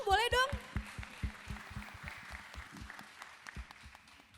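Audience applause at an Indonesian talk show: a brief burst of voice opens, then scattered, uneven hand clapping from a crowd carries on steadily at moderate loudness before thinning out toward the end.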